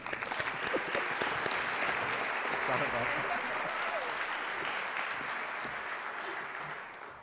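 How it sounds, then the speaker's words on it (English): A convocation audience gives a sustained round of applause, a thick, steady clatter of many hands that stays strong and slowly tapers toward the end. "So give Terry a round of applause."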